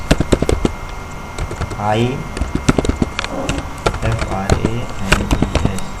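Close, rapid clicking of computer keyboard keys as HTML code is typed, irregular bursts of keystrokes running under a man's steady explanatory speech.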